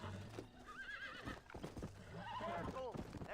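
A feisty horse being broken in Red Dead, a Western video game, whinnies repeatedly and wavers in pitch over clip-clopping hooves and a low background score, with someone talking over it.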